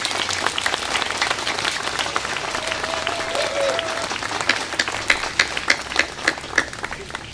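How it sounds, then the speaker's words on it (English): Outdoor crowd giving a round of applause at a bicentennial day event in Gallipolis, Ohio, a sustained spread of clapping with sharper individual claps rising near the end and a brief tone sounding midway. "Let's give this hard-working group a round of applause."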